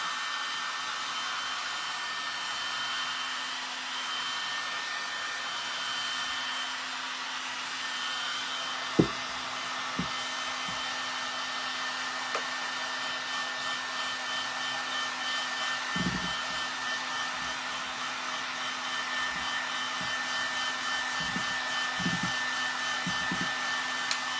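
A hair dryer blows steadily over freshly painted furniture, a constant close whir with a few soft clicks and knocks underneath and no voices.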